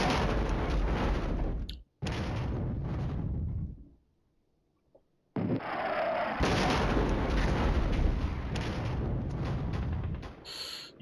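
Loud artillery bombardment in the Flashpoint Campaigns: Red Storm war game, heavy rumbling barrages of fire and explosions filling most of the stretch, breaking off twice into brief near-silence before resuming.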